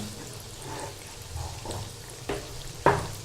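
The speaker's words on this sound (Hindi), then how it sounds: "जब ऑयल अच्छी तरह से गर्म हो जाए तो आप इसे धीमी आंच पे फ्राई करें" Gulgulay frying in hot oil over low heat give a soft, faint sizzle, broken by a few stirring scrapes and a sharper knock near the end, close and quiet.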